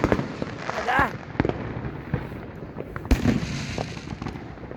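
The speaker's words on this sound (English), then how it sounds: "It's raining fucking fireworks." Fireworks exploding all around outdoors, a string of sharp cracks and bangs at irregular intervals, some near and loud, others more distant, with people talking over them.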